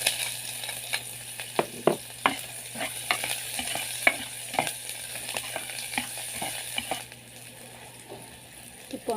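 Onion and garlic sauté in hot oil for pancit, giving a quiet, steady sizzle broken by irregular clinks and scrapes of a utensil stirring against the pan.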